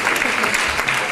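Clapping from a conference audience welcomes a speaker, dense and even applause from many hands, close and full throughout the short burst.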